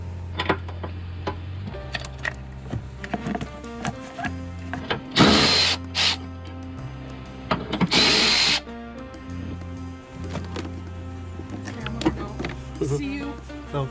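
Power tool whirring in short bursts while starter bolts are removed from a 2009 Toyota Camry, with two louder, harsher spinning bursts in the middle, mechanical clinks and a voice talking in between.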